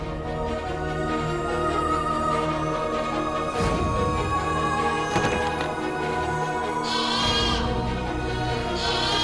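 Sheep and lambs bleat in a Hindi TV drama scene, with wavering cries rising near the end over a dense, steady background.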